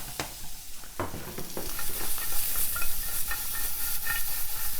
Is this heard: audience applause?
no